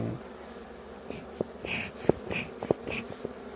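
Honeybees hum steadily and faintly through a hive inspection, with a few short clicks and knocks from handling frames; there is no talk.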